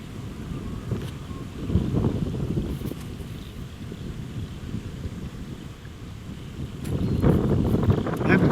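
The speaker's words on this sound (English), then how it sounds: "Starting to get quite breezy and cold now." Breezy, cold wind blowing outdoors across a field, a steady low rumble of gusts buffeting the microphone that swells louder near the end.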